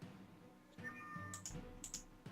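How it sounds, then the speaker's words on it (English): A cat gives a short meow close to the microphone, and faint keyboard clicks sound in a quiet room. "Yes, yes, cat, we know you're here."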